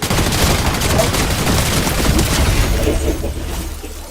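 Sustained, dense gunfire from a Fortnite match, sniper shots among a steady loud barrage of game combat noise, with a voice briefly talking.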